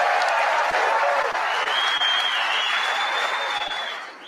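A large crowd applauds steadily in a dense, continuous wash of clapping at a live talk-show event, with a few cheers and whoops riding over it before it fades at the end.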